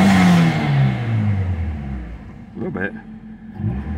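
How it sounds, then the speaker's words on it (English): A 1997 Toyota Starlet Glanza V turbo heard from inside the cabin: a steady engine and induction drone that slowly falls in pitch, with someone speaking briefly over it. "there's a little bit of exhaust noise, but it's pretty much all induction noise"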